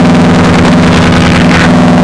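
A Neutral Labs Elmyra 2 synthesizer holds a loud, steady low drone without a break, with a buzzing, engine-like hum and a hazy wash of higher tones above it.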